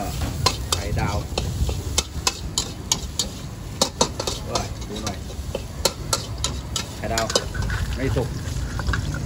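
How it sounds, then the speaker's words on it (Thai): Pork is stir-fried in a pan, a busy sizzle with rapid, repeated scraping and clanking of a utensil against the pan, while someone talks over it. "เราผัดหมูนะครับ"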